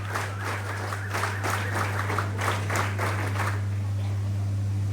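Cadets at an NCC prize distribution give a short round of rhythmic group clapping, steady beats over a constant electrical hum that fade out after a few seconds.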